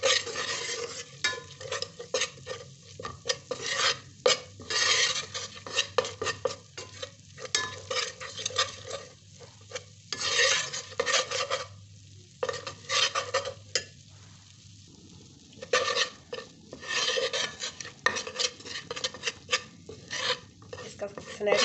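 Gram flour (besan) is roasted in a pan over low heat and stirred steadily, giving close, continuous scraping and light sizzling with brief pauses, and no voices.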